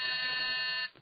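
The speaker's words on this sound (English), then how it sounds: "That was again the door buzzer." A door buzzer sounds one loud, steady electric buzz, rich in harmonics, lasting just under a second before it cuts off abruptly.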